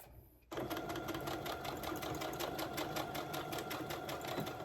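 A sewing machine stitching a fabric pumpkin at a 2.5 stitch length starts up after a brief quiet moment, then runs in a fast, even, rapid clatter of needle strokes, close and constant until the end.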